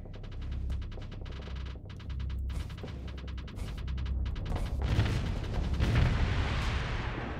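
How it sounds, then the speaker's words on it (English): Sabot rounds fired in a video game ring out as repeated heavy booming shots with a low rumbling throb, growing louder and denser toward the end, with no talking. "and then let's go ahead and fire some sabots at it"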